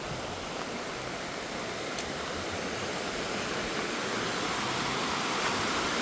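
The Lempa river in El Salvador, swollen by heavy rains, rushes in a steady, broadband roar of flowing water, constant and fairly close, with no voices.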